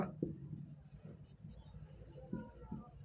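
Quick scratchy strokes of writing on a board in a class 10 maths lesson on the volume of solids, short bursts of marks close by with a soft voice murmuring underneath.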